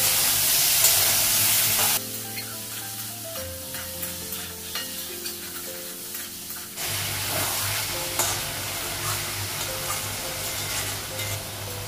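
Potato and eggplant frying in a pan give a steady, close sizzle, with a louder hissing burst at the start and a second surge of crackle partway through, along with occasional clinks and scrapes.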